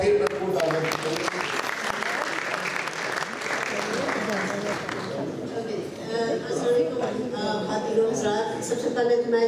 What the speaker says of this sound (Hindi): एक दफा फिर भरपूर तालियां।